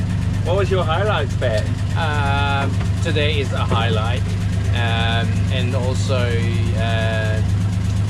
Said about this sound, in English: So you can hear the engine of our boat starting up in the background now